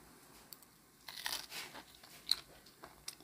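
Crispy pan-fried zucchini coated in acorn flour is bitten and chewed up close, giving a few faint, sharp crunches between quiet pauses.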